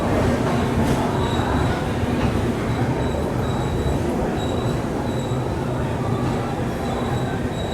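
Telangana Express train pulling out of Balharshah station, a continuous loud rumble of wheels and carriages with faint high squeals from the rails, steady throughout.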